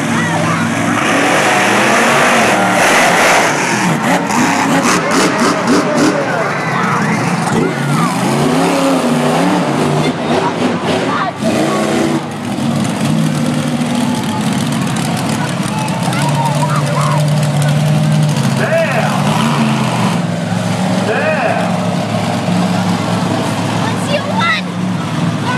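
Monster trucks racing, a Ford against a Chevy, roar continuously with loud engine revving and shifting pitch throughout, under crowd noise and voices.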